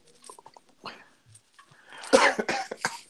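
Faint scattered clicks and small noises, then a burst of harsh, raspy coughing near the end, loud and close.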